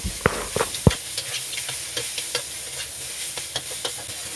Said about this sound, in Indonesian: Kemudian kita oseng sama iga sapinya itu ya teman-teman, supaya iga sapinya itu berbau harum.